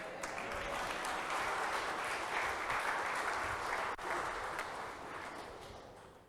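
An audience at a Christian conference applauds steadily, a dense wash of clapping from many hands that holds for several seconds, dips briefly, then fades out gradually at the end.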